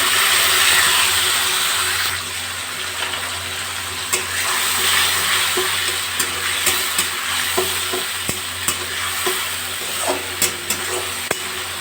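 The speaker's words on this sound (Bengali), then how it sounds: "এই মশলাটা ভালো করে কষিয়ে নেব" A paste of tomato, green chilli, ginger and cashew frying in a pan over a raised gas flame, a continuous hiss of sizzling with repeated clicks and scrapes of stirring, close up and without speech.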